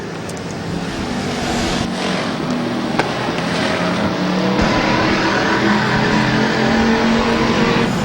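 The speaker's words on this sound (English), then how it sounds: "Murray has climbed up to the back bumper of Spear once again." Race cars roar around Twin State Speedway, a short oval track in Claremont, New Hampshire, in a steady, loud wash of engine noise with rising and falling revs and no voices.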